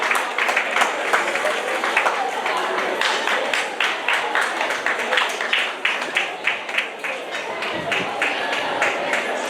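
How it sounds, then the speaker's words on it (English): Audience applause as a guest speaker takes the podium at a formal event, a steady wash of clapping with some individual claps standing out, fairly close and sustained, thinning toward the end. "Let's give him a round of applause as he takes the podium."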